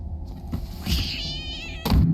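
A cat meows in the Slendrina horror video game: one drawn-out, wavering meow in the middle, framed by shorter bursts of game noise, moderately loud and with no talking.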